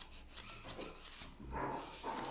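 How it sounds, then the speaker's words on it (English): A 100/180 grit nail file, on its rough 100 side, scrapes an acrylic nail tip with short, faint rasping strokes, close up and with no voices. "Still using the 100/180 grit file. We're gonna use the 100 side, which is the rougher side of my file."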